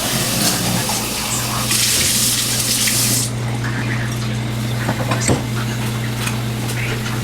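Liquid pours and splashes continuously as frothed cold brew coffee goes into a glass, a close, steady gush with a low hum underneath and a faint voice briefly present.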